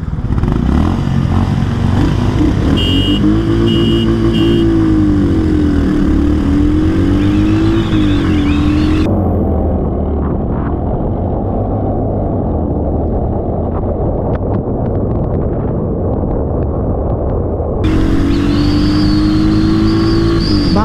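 A Royal Enfield Hunter 350 and a Honda CB350 roar loudly through a drag race, engines revving and shifting up through the gears. The exhaust pitch climbs, eases off mid-run, then rises again, with no talking.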